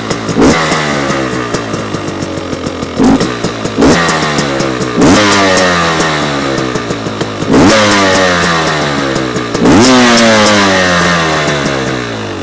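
2025 Beta XTrainer 250 and 300 two-stroke motorcycles revving on a driveway, close and loud, with repeated rising then falling revs about every two seconds over a crackly, buzzy idle between blips.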